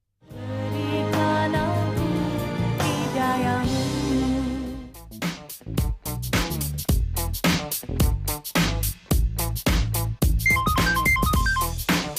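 A mobile phone rings with an incoming call, a bright melodic ringtone that plays loud and alone, first as sustained tones and then as a busy, choppy electronic tune.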